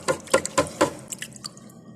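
A freshly tinned circuit board goes into water, giving four quick close drips and splashes in a row followed by a few fainter trickling drops.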